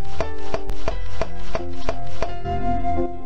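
Kitchen knife chopping food in a Japanese PC-FX dating game, First Kiss Story: eight or nine crisp, evenly spaced cuts close up over steady background music, without speech.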